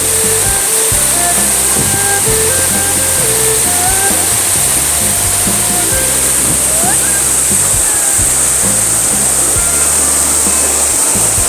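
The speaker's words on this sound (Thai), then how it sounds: "เสียงน้ำตกลงมา" A loud, steady roar of falling water fills the scene, constant and close, with faint voices buried underneath.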